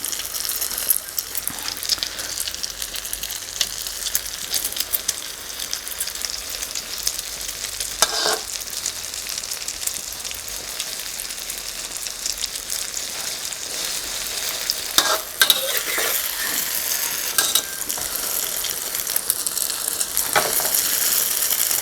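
A cha-om (acacia leaf) omelette frying in hot oil gives a dense, even crackling sizzle that runs steadily throughout, with a few brief scrapes or taps along the way, close and alone without speech.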